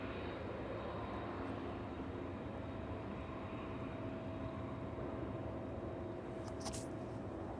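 A cargo aircraft taxies off the runway at East Midlands Airport on a chilly evening, a steady broadband engine rumble and whine holding at constant level throughout, with a faint brief hiss near the end.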